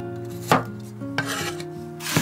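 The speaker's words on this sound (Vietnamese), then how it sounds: "Cắt lát một ít tỏi để lát nữa mình xào rau củ cho thơm nè." Garlic being sliced with a knife on a cutting board: three separate sharp chops spaced about a second apart, close and fairly loud, with a soft steady tonal background between the cuts.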